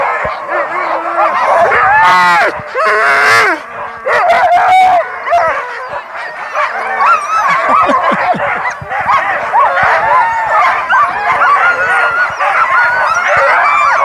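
A pack of harnessed sled dogs barks and yelps excitedly at the start of a race stage near the Roman mausoleum at Lanuéjols, a loud, dense overlapping chorus of close barks with voices mixed in.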